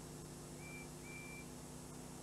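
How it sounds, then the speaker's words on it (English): A steam engine's whistle sounds far off and very quietly, two short toots in quick succession over a steady background hiss. "Thomas listens to Percy's whistle."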